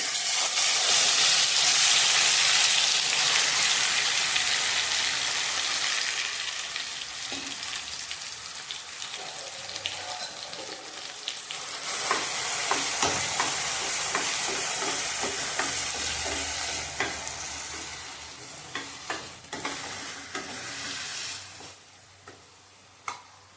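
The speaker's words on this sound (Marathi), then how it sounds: "तेल गरम झाले वाटप करून घेतलं होतं आपण ते आता तेलात टाकून भाजून घेऊया चांगलं" Ground coconut masala paste for a Malvani chicken curry hits hot oil with a loud, dense sizzle that gradually settles into softer frying, broken by stirring scrapes and ticking taps of the spoon, without talk.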